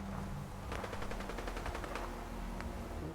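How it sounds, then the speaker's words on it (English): Gunfire crackles in the background of the Fallout 4 video game. A rapid, fairly faint burst of automatic shots rattles over a steady ambient hum, followed by a single late shot. "Still hear a lot of gunfire in the background"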